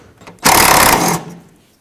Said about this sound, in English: To remove this headlight, you need to take out 4 10mm bolts in total.